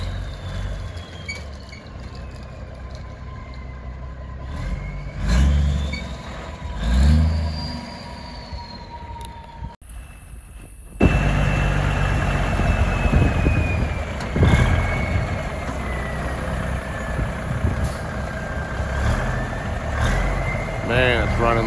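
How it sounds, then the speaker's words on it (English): A 350 Big Cam diesel truck fitted with a new Premco injection pump and injectors runs steadily. The engine drones loud and close, with a sharper jump in level midway, and someone talks over it at times. "Man, it's running like a new truck."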